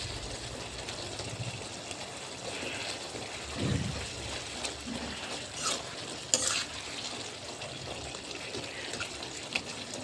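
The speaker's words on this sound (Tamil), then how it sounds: "நல்லா ஃப்ரை பண்ணி எடுங்க நல்லா மிக்ஸ் பண்ணிவிடுங்க மசாலா எல்லாம் ஒன்றா சேரட்டும்" Tomatoes, curry leaves and masala frying in a pan for seela fish kuzhambu, a steady close hiss of frying with occasional scraping and stirring knocks, moderately quiet, no talking.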